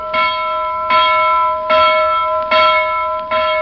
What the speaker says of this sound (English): announces today with his loud get-out-of-bed bell